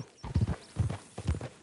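Horse hooves clip-clopping in a video game as a rider heads into town, a steady rhythmic gait of close, distinct hoof strikes in several grouped beats.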